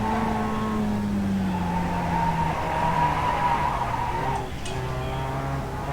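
A race car in a sim racing game at Mid-Ohio skids, its engine note sliding steadily downward while tire scrub hisses beneath, loud and continuous, with a brief dip near the end. No talk.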